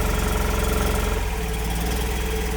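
A Mazda Miata NB2 VVT engine, fitted with an automatic ECU after a five-speed manual swap, idles cold just after its first startup, a close steady pulsing rumble with a slight uneven hesitation in the beat.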